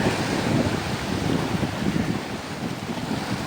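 Ocean waves wash steadily onto Cola beach in Goa, a continuous broadband roar of surf mixed with gusty wind buffeting the microphone, fairly loud and unbroken throughout with no voices.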